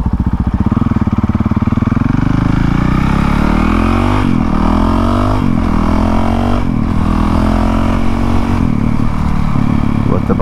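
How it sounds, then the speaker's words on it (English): A Honda CRF450L supermoto engine idles close by while warming up, a loud, steady thumping drone with several brief blips of the throttle rising and falling in pitch, heard alone without talk. "Let the bike warm up some."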